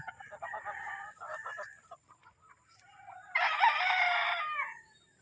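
A gamefowl rooster of 5K Sweater cross Possum Sweater breeding clucks nearby, then lets out one loud, close crow that lasts about two seconds against a quiet background.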